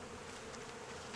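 Angry honey bees swarm around a hive dusted with powdered sugar, a dense, steady buzz filling the short stretch without pause.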